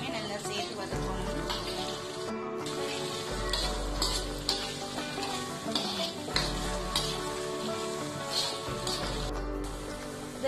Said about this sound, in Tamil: இப்ப இந்த கறிவேப்பிலை, வெங்காயம், பூண்டு, பச்சை மிளகாய், காஞ்ச மிளகாய், தாளிதம் எல்லாத்தையுமே நல்லா சேர்த்து வதக்கணும்